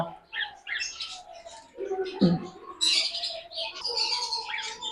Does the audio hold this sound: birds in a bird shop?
yes